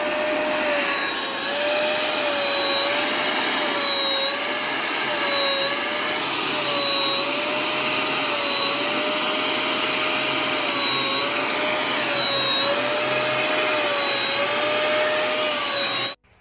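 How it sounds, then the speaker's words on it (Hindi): An Xtra Power vacuum cleaner with a fault runs loud and continuous, its whine wavering up and down in pitch in slow cycles before cutting off at the end. "पहले आप लोग वैक्यूम क्लीनर का जो साउंड वो सुन लीजिए।"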